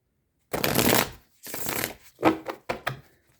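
A deck of tarot cards is shuffled by hand in several close, crisp bursts: two longer riffles, then a few quick shorter flicks, with quiet gaps between.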